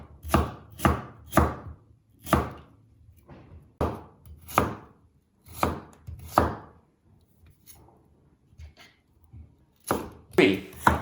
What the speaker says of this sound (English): Chop them into small,